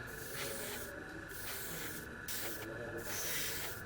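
Alclad II metallic paint sprayed from an airbrush onto a scale model: a steady close hiss of atomised spray runs throughout, broken by a few short pauses between passes, with no talking.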